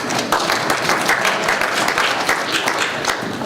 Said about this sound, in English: That's the first time anybody's ever clapped for Walker.